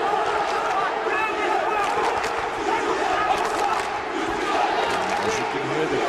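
Arena crowd at a light welterweight boxing semifinal of a 2012 European Olympic qualifier, roaring and shouting steadily in a dense wash of noise, with a commentator's voice partly under it.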